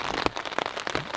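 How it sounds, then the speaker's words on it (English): Steady, solid rain falls at night on a campsite with no wind, a dense close patter of drops tapping a surface, with a few louder hits standing out. "It's been raining all night long since roughly 11 p.m. It's a good solid rain."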